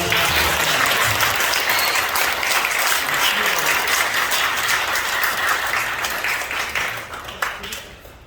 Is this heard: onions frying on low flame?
no